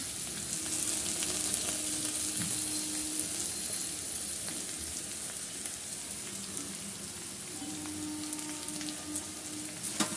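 Grated carrot and onions frying in a pan for carrot rice, a constant dense sizzle like light rain, close and even in loudness, with a few faint stirring touches and no talk.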